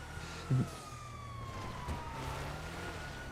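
A police car siren wails in the video game GTA 5, a faint, distant rising and falling tone over low traffic noise, with a brief thump near the start.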